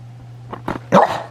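A dog indoors lets out two or three short, sharp barks in quick succession, the last one loudest, with no talking.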